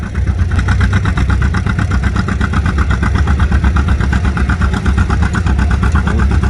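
A John Deere tractor engine at a tractor pull roars loudly and close, with a rapid, even throbbing that holds steady throughout, no voices present.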